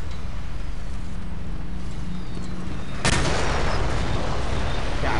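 Artillery fire in the video game Battlefield 2 during a 16 vs 16 match: continuous rumbling combat noise, then a sharp loud blast about three seconds in followed by dense crackling barrage, no clear talk.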